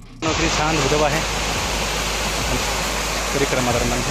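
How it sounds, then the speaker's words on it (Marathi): A forest waterfall on the Raigad circuit trek rushes in a steady, close roar of falling water, with someone talking over it. "छान धबधबा आहे."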